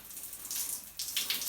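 Water pours from a simple electric shower heater in a bathroom, a brief, steady hiss of flowing water that surges a little louder partway through.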